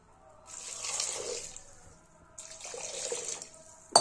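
Water pours in two bursts into a pot of radish sambar ingredients, a hissing splashing stream that stops briefly, then resumes and ends with a small clink.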